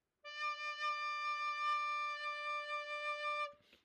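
Recorder plays a single sustained low D below the staff, a pure, steady tone held for about three seconds, soft and clean, ending with a small breathy release and no talking.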